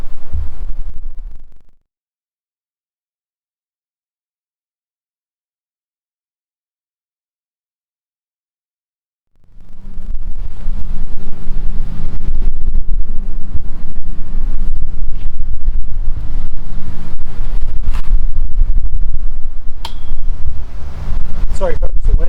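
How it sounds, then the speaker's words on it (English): Outdoors at a hammock campsite, wind gusts into the microphone as loud, steady low rumbling buffeting, which cuts out for several seconds and then returns for a long stretch. "Sorry folks, the wind's blowing again today."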